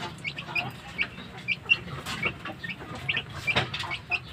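Raised chicks and chickens cluck and peep close by in a backyard flock, with high chirps repeating about every half second over low clucking.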